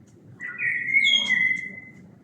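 A bird sings a clear, bright whistled phrase with a rising second note inside a botanical garden with fruit trees and a jungle-like enclosure, heard alone over a soft, steady low background murmur.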